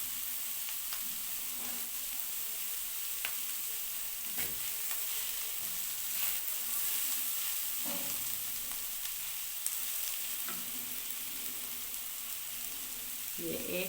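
Frying spices, cumin, crushed chili and dried coriander, sizzle steadily in a hot pan while being stirred and mixed, with scraping strokes throughout and no talk.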